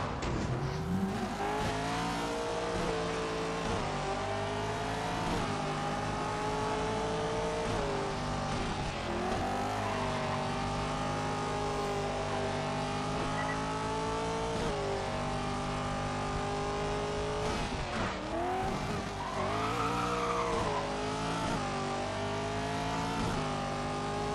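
Rally cars race in Colin McRae: Dirt with a loud, continuous engine that climbs and falls through repeated gear changes, plus bursts of tire squeal and skidding, with no talk over it.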